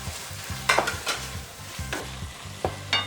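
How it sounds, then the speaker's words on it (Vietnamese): Diced onion is stirred into softened, cooked-down tomatoes in a pan, a close sizzle punctuated by four or five distinct scraping strokes of a spatula at a steady pace, with no talking. "mình sẽ cho phần hành tây cắt hạt lựu vào ha. Đảo đều nha."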